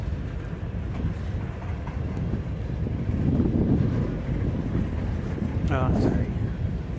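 Wind buffeting a microphone outdoors beside a railway during a snow squall, a continuous low roaring rumble that gusts stronger in the middle and near the end, with a brief faint horn-like tone.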